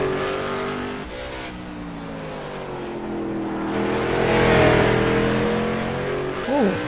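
A Toyota late model race car in a racing video game revs loudly and continuously, its engine pitch climbing and sliding through gear changes, with a brief higher whine near the end and faint commentary underneath.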